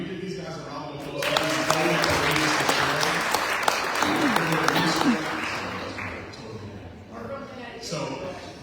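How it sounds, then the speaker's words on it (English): A crowd bursts into loud applause that swells quickly, carries on for several seconds amid voices, then tapers off. "Can we give these guys a round of applause?"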